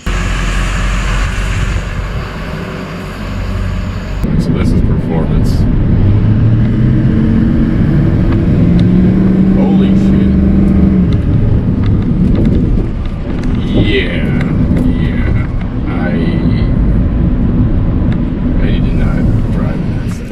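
Duramax diesel truck on a test drive, a loud continuous engine and road roar heard from inside the cab, with a shift in tone early on and faint voices mixed in.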